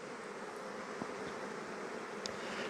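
Honey bees buzzing around hive frames during a hive inspection, a dense continuous hum that stays faint and steady with a few brief louder passes of individual bees.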